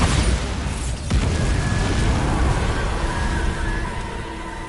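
A Bombarda spell explodes in the video game Hogwarts Legacy, a heavy booming burst with a rumbling, noisy tail that lasts several seconds at full loudness, with a sharper crack about a second in.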